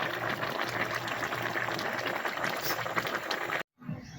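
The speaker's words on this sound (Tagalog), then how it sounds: "Ayan, pakuluan na lang ng konti ito." Tilapia and petsay bubbling in coconut milk in a pot, a dense steady simmering hiss and gurgle heard close and alone, cut off abruptly near the end.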